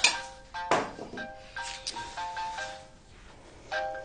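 A phone rings in a home with a repeating electronic ringtone melody of short tonal bursts that stop and start, moderately loud and close, with no talk over it.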